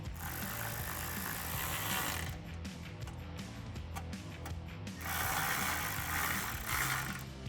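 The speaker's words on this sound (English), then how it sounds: "And then we can take our 7mm socket to tighten these down." Ratchet wrench with a 7mm socket tightening exhaust bolts on a 2016-2023 Camaro SS cat-back exhaust, a dense rapid clicking close by that runs steadily, pauses briefly in the middle, then resumes loudly with no talk.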